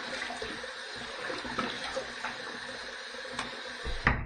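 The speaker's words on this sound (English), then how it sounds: "let me splash, let me wet the face" Water splashed onto a face by hand at a sink before a wet shave, a few soft, close splashes and drips over running water, with a sharper splash near the end.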